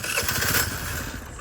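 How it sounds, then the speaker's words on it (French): A cheap scooter engine, already warm, starting and running with a busy buzzing putter throughout, loud and close. "Alors là les gars on va faire un petit démarrage."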